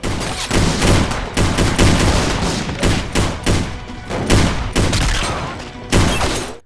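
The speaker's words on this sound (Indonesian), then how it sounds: "Suasana menjadi sangat menegangkan hingga akhirnya mereka pun saling baku tembak." Heavy gunfire fills a film shootout, with dense volleys of loud shots and bursts cracking in quick irregular succession close by, broken by brief pauses.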